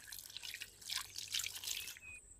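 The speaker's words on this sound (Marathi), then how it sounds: "आम्ही पहिल्यांदा आता चिकन चांगला धुवून घेतो" Running water splashes and drips in quick, uneven bursts, close by, as chicken is rinsed under a tap.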